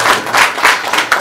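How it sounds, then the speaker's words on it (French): A crowd at a media discussion event in Benin applauds in a dense, loud, continuous patter that swells and eases in short waves. "Ça s'applaudit les amis. Ça s'applaudit."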